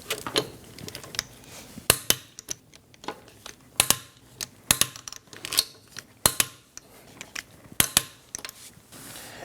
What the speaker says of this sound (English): let's torque our lug bolts to 103 foot-pounds in a star form pattern